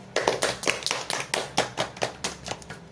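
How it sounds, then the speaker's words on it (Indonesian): About a dozen sharp hand claps from a small group, fairly faint and quick, welcome the guest stars on a student broadcast show, with no talking over them. "Tepuk tangan buat kedua bintang tamu kita kali ini."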